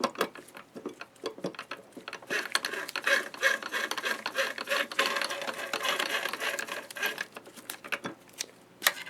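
Topcon SL-D slit lamp base being run up and down, a quiet rapid clicking and ratcheting mechanical rattle with gear-like ticks throughout.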